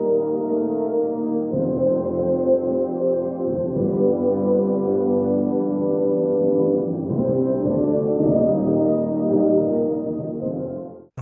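Orchestral music band-limited to the low mids, a thick, muddy, boxy wash of sustained strings and percussion hits with no highs, steady and loud throughout without any talking.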